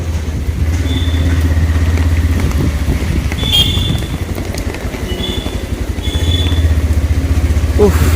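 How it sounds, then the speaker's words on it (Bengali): A motorbike rides through a rain-flooded lane with water deep enough to half-submerge it, its engine chugging steadily close by under wind and water noise, with faint splashing and occasional higher tones. "এত জল যে বাইক অর্ধেক ডুবে যাচ্ছে"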